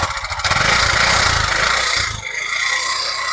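A Bajaj CNG auto-rickshaw engine runs nearby, a loud buzzing mid-pitched drone that revs hard for a couple of seconds, then drops briefly and settles back to a steady idle; no talking.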